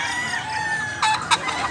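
Chickens and roosters cluck and crow close by at a farm, with two sharp calls rising above a steady background of poultry noise.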